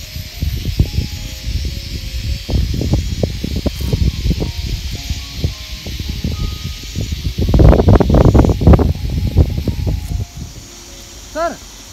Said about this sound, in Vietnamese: Ở trên này gió khá là to.